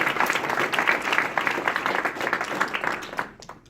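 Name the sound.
applause for graduates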